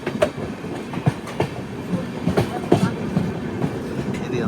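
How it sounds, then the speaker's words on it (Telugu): Sampark Kranti Express pulling into Kacheguda station, its rail cars rumbling close with steady clickety-clack over the joints and scattered sharp clanks. "కాచిగూడకి అయితే మంచిగా వచ్చింది ట్రైన్."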